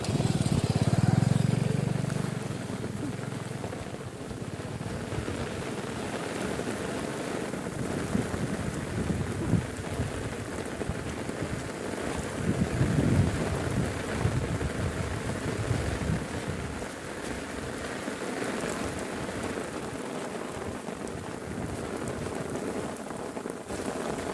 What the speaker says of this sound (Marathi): आवाज येतोय पावसाचा